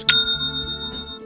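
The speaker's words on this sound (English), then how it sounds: "Ah, the best kind of notification. That's another sale on Shopify" A bright single notification ding for a new Shopify sale rings out clearly, a sharp chime followed by a sustained ringing tone that fades over about a second, with no voices.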